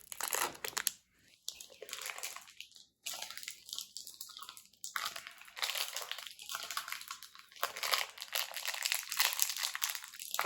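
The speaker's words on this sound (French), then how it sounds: "j'ai vraiment de la difficulté à ouvrir les sacs aujourd'hui" A plastic blind bag for a Disney Doorables Villains figure is crinkled and torn open in repeated close crackling bursts with brief pauses, someone speaking in French over parts of it.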